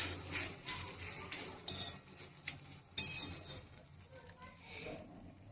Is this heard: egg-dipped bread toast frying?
yes